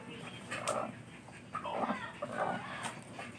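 Chickens clucking nearby at a lechon roasting stall, short, irregular bursts over a steady background hum.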